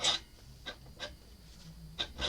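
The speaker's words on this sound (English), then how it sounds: "I'll push the axle out a bit and I'm going to slide it out completely" A motorcycle front wheel axle is slid out of the wheel, giving a few faint, short metallic scraping rubs spaced about half a second apart in a quiet workshop.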